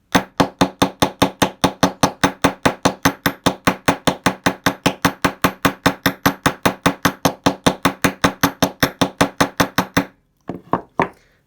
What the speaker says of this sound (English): all I'm doing is hammering directly on the top of that loop